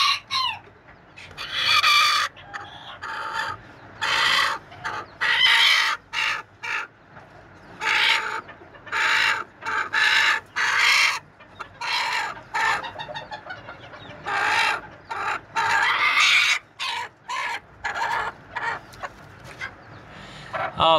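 A broody hen sitting on a fake egg squawks and clucks loudly in repeated harsh bursts, close by, with short pauses between the cries.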